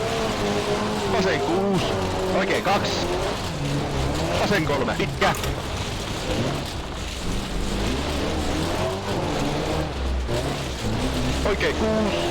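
A Peugeot 205 T16 rally car engine revs and shifts through an H-pattern gearbox with clutch in a racing game on the Mitterbach stage, loud and continuous, with tire noise and someone talking over it.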